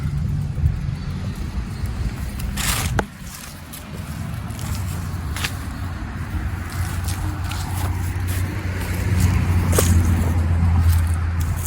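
A Yamaha YFZ450 ATV engine idles steadily with a low, even rumble, broken by a few sharp clicks and knocks, and the idle rises slightly toward the end, with no talk.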